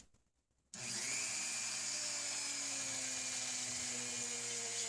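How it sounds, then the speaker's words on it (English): Dremel rotary tool polishing the pins and bolster of a zebrawood stockman pocket knife, a high steady whir that starts abruptly after a quiet moment and holds at an even pitch, close and continuous. "little tool I have here set up on my Dremel, and I'm going to try to keep the volume down to a minimum"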